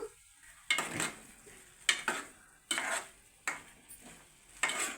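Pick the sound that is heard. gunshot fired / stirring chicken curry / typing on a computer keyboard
stirring chicken curry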